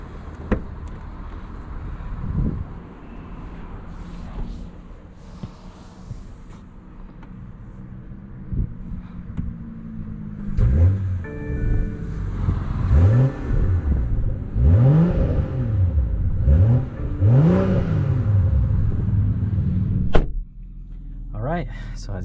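A BMW M340i engine idles, then revs repeatedly in rising and falling sweeps before pulling away under acceleration, loud and close from inside the car, with a closing thump near the end.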